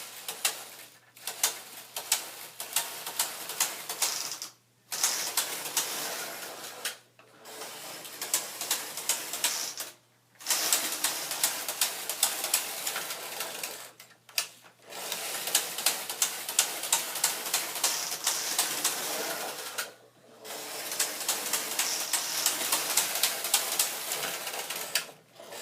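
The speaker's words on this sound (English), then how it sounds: "move the carriage to just transfer only and go very slowly across" A Singer SK360 knitting machine carriage, set to transfer only, is pushed slowly across the bed with a fast, typewriter-like run of mechanical clicks, broken by several brief pauses.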